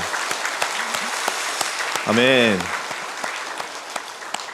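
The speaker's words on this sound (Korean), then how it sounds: "다시 한번 하나님께 영광의 박수를 올려드리겠습니다" Congregation applause at an Easter Sunday church service fills the space steadily, with a short sung or spoken response rising briefly over the clapping midway through.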